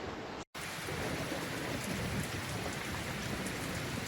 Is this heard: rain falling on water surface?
yes